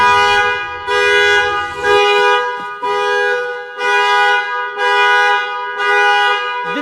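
A car alarm or horn blares in a parking lot, repeating in steady loud pulsed blasts roughly once a second, close and unbroken by talk.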